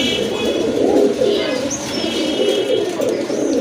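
Pair of pigeons offered for sale cooing continuously up close, soft throaty burbling coos with faint chirps over a steady ambient background, no clear speech.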